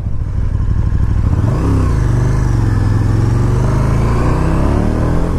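A 2019 KTM 1290 Super Duke R being ridden, its big V-twin engine droning loud and steady close by, with pitch swings as the throttle opens and eases, plus road and wind rumble throughout.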